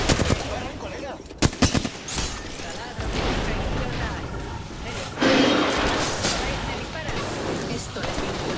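Video game gunfire cracks out in a short cluster of sharp shots, followed by denser, rougher firing and battle noise, with game sounds and voices mixed throughout.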